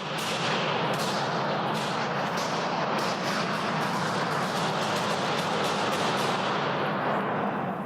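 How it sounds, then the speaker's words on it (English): A dense, continuous volley of gunshots rattles nonstop inside the Parliament of Canada, sharp cracks piling over one another at close range. "that huge barrage of gunfire that we've all heard"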